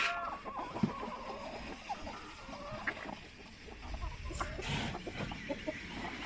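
A rooster calls on a farm at feeding time while the feeders are being filled, its crowing and clucking mid-distance amid rustling, scattered clatter and faint farmyard background.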